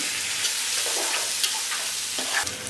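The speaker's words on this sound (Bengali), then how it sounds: "ডিক্স গরম হয়ে গেছে, দিয়ে দেব সাদা তেল, এলাচ, দারচিনি, তেজপাতা, আদা বাটা 3 চামচ পরিমাণ" Cardamom, cinnamon, bay leaf and ginger paste hit hot white oil in a pan for vegetable pulao, sending up a loud, steady close sizzle with faint stirring scrapes and no voices.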